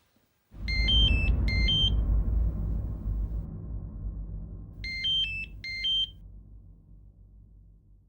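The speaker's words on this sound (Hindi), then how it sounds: "राशिद का फोन" A phone rings in a home scene from the Hindi TV drama Qubool Hai on Zee TV, giving two short bursts of bright electronic ringtone trills over a heavy low musical swell, the second pair quieter.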